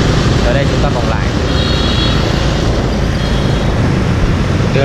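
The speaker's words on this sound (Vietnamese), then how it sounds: "Đường này xe lớn và kẹt xe dữ lắm." Dense, loud roadway roar from heavy traffic with large trucks and buses on a congested road near the Hiep Phuoc industrial zone, with engine rumble and passing vehicles throughout.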